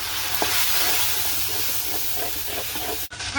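Turmeric, chili and coriander powders are stirred into a goat head and chana dal curry frying in a pot, a loud steady sizzle with occasional scraping stirs, no voices.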